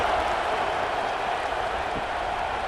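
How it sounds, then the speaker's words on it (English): Stadium crowd in EA Sports College Football 26 roars steadily at a kickoff, a dense, continuous wash of cheering with no break. "You think this crowd's going to get loud when their defense comes on the field?"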